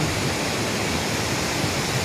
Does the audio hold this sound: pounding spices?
no